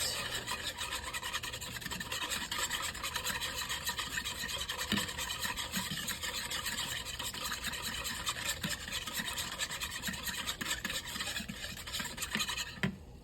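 A tiny whisk scrapes and rubs quickly through sauce in a bowl, making a continuous close-up scratchy swishing with no pauses.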